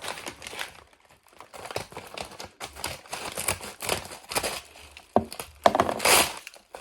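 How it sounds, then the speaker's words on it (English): A hefty package of books is cut open, with irregular crinkling, tearing and cutting noises in short bursts, close and fairly quiet, a sharper rip near the end. "And it is hefty. It's hefty. So, let's cut into this."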